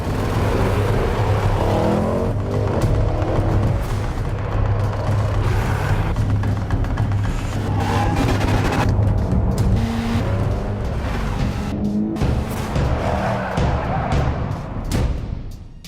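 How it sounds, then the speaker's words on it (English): Race car on a mountain road with 99 hairpin turns, a continuous loud engine roar rising and falling through gear changes, with tire noise throughout and no talking. "For starters, Ho Pin Tung ran along a road with 99 hairpin turns."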